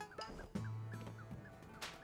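Bird creatures in the video game A Hat in Time letting out a gobbling, turkey-like squawk over a low, steady game soundscape, quiet and brief.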